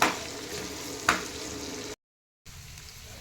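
Broad beans (chikkudukaya) deep-frying in oil in a pan, a steady close sizzle with two sharp scrapes of stirring, a brief silent gap, then the sizzle resumes more quietly.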